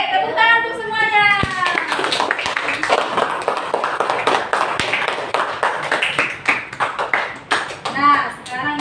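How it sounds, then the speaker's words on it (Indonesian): Primary school pupils in a classroom clap together, with sharp irregular hand claps and taps over lively children's voices and chatter throughout. "Oke, tepuk tangan untuk semuanya."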